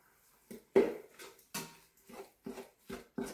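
Spoon stirring a spiced chili mixture of meat, salt and pepper in an Instant Pot, giving about six separate scraping knocks and clinks at a steady pace, close and moderately loud, with no talking.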